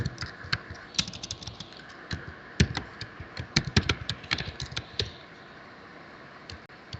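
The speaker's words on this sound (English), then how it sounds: "I'm typing and nothing's happening." Rapid, uneven keystrokes on a computer keyboard, close and fairly quiet, in bursts of clicks that thin out and stop toward the end, with no talking.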